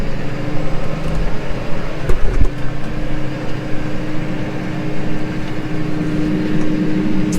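Tractor engine on a mini-tilling run with an Erth Agriseeder drilling spring barley, a loud steady close-up drone with a rough low rumble that swells briefly as it is revved, no voices.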